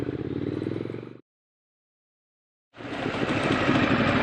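Triumph Scrambler 1200 XC motorcycle engine running loud and close, a steady rumbling tone that cuts out completely for about a second and a half, then returns stronger and rougher.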